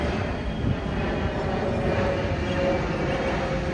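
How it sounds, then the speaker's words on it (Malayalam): An airplane flies past near a railway station in Bhubaneswar, a broad steady engine roar that holds at an even, fairly loud level the whole time, with no talking. "റെയിൽവേ സ്റ്റേഷന് മുന്നിൽ തന്നെ ഫ്ലൈറ്റ് പോകുന്നതും കാണാം"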